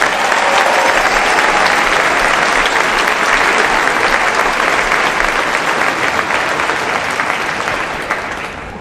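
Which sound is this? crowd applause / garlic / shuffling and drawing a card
crowd applause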